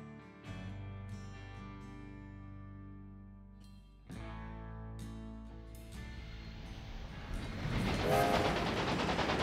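A train rolling along the line in Railway Empire 2, a steady low rumble and rail clatter with harmonic hum that swells louder toward the end, with no talking over it.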